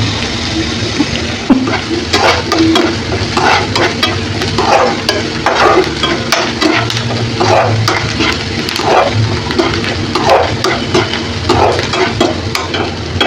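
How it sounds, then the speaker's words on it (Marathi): Onion sautéing in a pan for aamboli, a steady sizzling hiss with repeated scraping and stirring strokes close by, no talking. "कांदा चांगला परतून द्यायचा आपल्याला"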